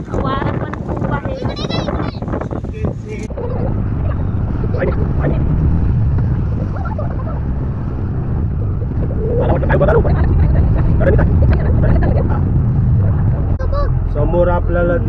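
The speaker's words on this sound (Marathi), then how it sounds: "वारा पण खूप आहे।" Strong seashore wind buffets and roars continuously against the microphone with waves nearby, loud and constant, while a person talks over it.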